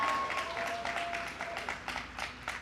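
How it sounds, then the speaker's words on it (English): Audience members at a graduation ceremony clap for a fellow called to the stage. The applause is thin and fairly quiet, with distinct individual claps rather than a dense wash. "Round of applause, people."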